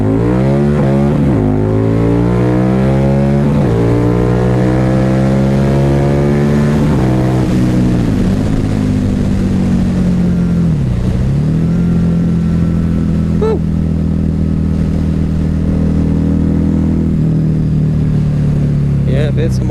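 A Harley-Davidson Night Rod motorcycle engine accelerating hard at high RPM, its loud exhaust note climbing repeatedly through gear changes and then holding a sustained roar, heard up close, with a rider's voice talking over it.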